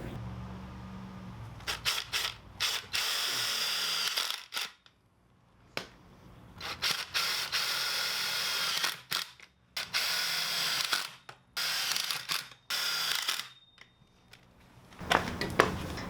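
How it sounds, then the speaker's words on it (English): Self-tapping screws driven by a power driver into pipe fittings on a trash-can black soldier fly larvae composting bin, in several close, loud bursts of whirring with short pauses between them. "I'm going to use some self-tapping screws to lock them in place."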